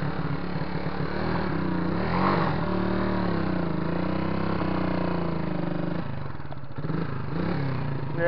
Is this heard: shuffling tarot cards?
no